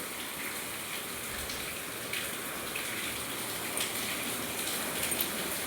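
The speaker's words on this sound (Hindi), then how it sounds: "आमर आज बहुत जोर वर्षा होपटे से मोर वॉइस भी आपन को भल से शुणा जाऊ न" Steady, dense rain pours down continuously, a broad hissing wash with scattered drip and patter accents, no voices heard.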